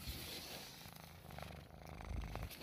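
A black cat purring steadily up close, a soft continuous rumble with no talk over it.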